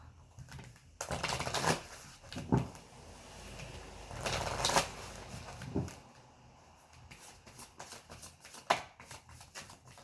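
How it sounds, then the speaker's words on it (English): A deck of tarot cards being shuffled in several quick riffling bursts, crisp papery rustles with short pauses between, fairly close and quiet. "I'm just going to shuffle one more deck"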